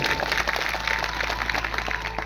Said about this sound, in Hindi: एक बार ताली बजाए दीजिए